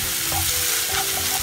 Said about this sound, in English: I'll be adding in onions that I've chopped, and we'll saute them till they turn light brown in color.